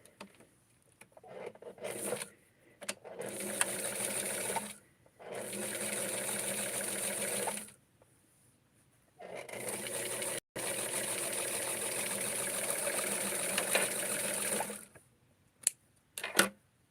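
A sewing machine stitching a doll's wrap skirt runs in several long steady bursts, whirring loudly and close, separated by quiet pauses with small handling clicks.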